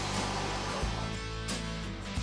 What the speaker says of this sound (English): Use a shop vac with a fine dust filter or ash vac to vacuum debris from this